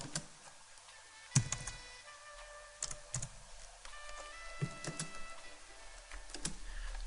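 Someone types on a computer keyboard while using CorelDRAW, a quiet irregular patter of key clicks with a few sharper taps, close by and without speech.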